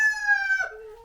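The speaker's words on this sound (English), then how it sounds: "One is an Easter egger and one is a black copper Moran rooster." A backyard rooster, an Easter Egger or black copper Marans, gives a single clear crow close by, the call held steady then dropping in pitch at the end, with no other sound around it.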